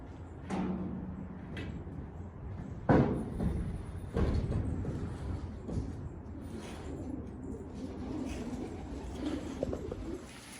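Soft pigeon coos repeat a few times over a murky room-like background inside a coop, with a couple of sharp knocks breaking in along the way.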